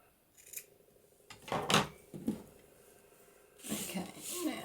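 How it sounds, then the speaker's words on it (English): Scissors snipping through acetate sheets while trimming them for Christmas cards, a few close crisp cuts and rustles of the plastic with quiet pauses between, the last cuts longer and rougher. "I might just trim those down a little bit"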